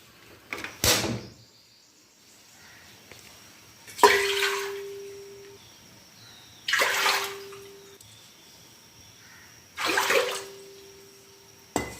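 Three separate splashy pours of water from a glass, each a few seconds long with a rushing gush, spaced apart with quiet gaps between them.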